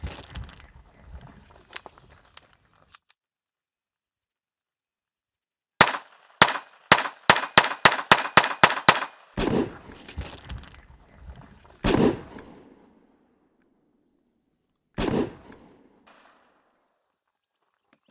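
Sig Sauer P938 pistol chambered in .22 fired in a rapid string of about ten sharp, loud shots, followed by a few slower single shots with ringing tails and gaps of quiet between them.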